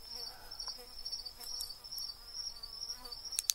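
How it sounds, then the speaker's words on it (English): Bee buzzing near a hive outdoors at night in a moist drainage, a faint steady high insect whine with soft flickers of passing wingbeats, close but quiet, no talking. "this bee is bothering me"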